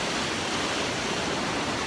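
A waterfall pours in a steady, loud, unbroken rush of white-noise roar, close and constant with no variation or voices.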